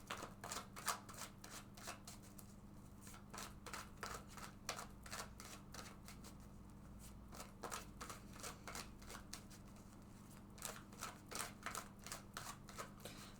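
Tarot cards are shuffled over and over, rapid papery riffles and flicks in quick bursts with a faint steady hum underneath.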